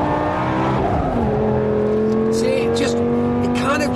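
A Lamborghini Gallardo SE pulls hard in second gear through a corner, its engine note climbing loud and close with a brief dip as power is applied, while a driver talks over it.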